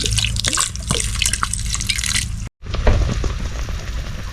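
Fat is poured over food cooking in a pan, giving a loud, close, steady sizzling and spattering that breaks off for an instant and then resumes.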